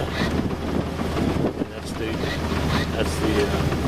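A sailboat moves under sail with its motor running at the same time, about 6.3 knots. A low steady engine hum sits under loud wind buffeting and rushing water.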